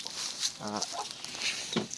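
Chickens in a coop with newborn chicks give short clucks and a brief hen call among faint peeping, close and without talk.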